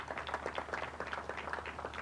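Light, scattered applause for young scientists and engineers at the launch of upgrades at the Pequannock Water Treatment Plant, a small group clapping steadily at moderate distance with no voices over it.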